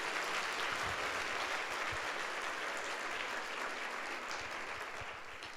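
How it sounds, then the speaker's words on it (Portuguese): Congregation applauding during a Sunday church service, a steady dense wash of many hands clapping throughout, fairly quiet and distant with no voices on top. "Dá um aplauso a Jesus."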